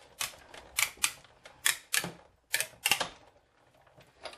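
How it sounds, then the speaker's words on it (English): A Big Shot die-cutting machine cranking cardstock through, a close series of sharp clicking and clattering bursts in an uneven rhythm, with no talking. "So we're going to run that through the Big Shot."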